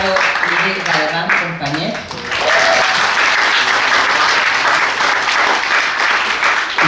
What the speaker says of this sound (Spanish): Y también un aplauso para la moderadora